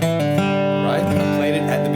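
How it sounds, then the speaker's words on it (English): A quick bluegrass G run on acoustic guitar, a fast run of plucked single notes ringing out clearly and close, with no voices. "that classic bluegrass G run"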